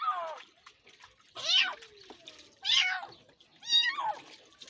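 A cat being washed with water inside a tent gives four loud, drawn-out distressed meows, separated by short pauses, with only faint background sound in between.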